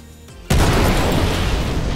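A missile explosion in the Star Citizen space combat game, a sudden loud boom after a short quiet lead-in, followed by a sustained roaring rumble that fades slightly to the end.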